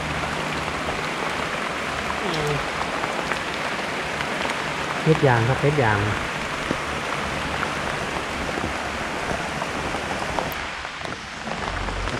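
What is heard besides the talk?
rain falling in forest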